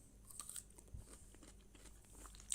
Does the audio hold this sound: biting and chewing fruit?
yes